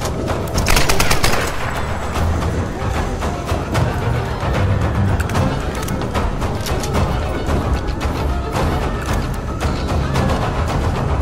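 Rapid, loud gunfire in Tomb Raider, a dense barrage of shots and bursts that keeps going nonstop for several seconds, near and harsh, with no voices.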